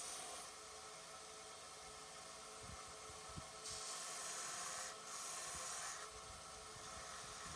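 A belt grinder with a 60 grit belt sanding wood: a steady, faint abrasive hiss and rub with a few soft knocks, continuous throughout with no talking.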